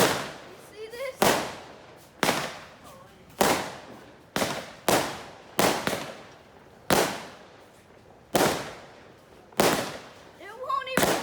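Firecrackers and fireworks keep exploding one after another, around ten loud, close bangs spaced about a second apart, each followed by a fading echo and occasional whistling crackle.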